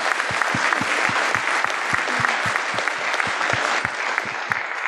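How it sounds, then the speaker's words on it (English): Conference audience clapping for event staff at a closing ceremony, a sustained, fairly loud wash of many hands with distinct individual claps standing out close by. "let's just give a round of applause for them"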